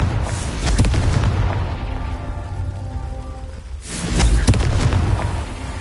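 A Confringo blasting curse explodes in Hogwarts Legacy, two booming fiery blasts a few seconds apart with a rumbling, crackling tail and a lighter tonal hum between them.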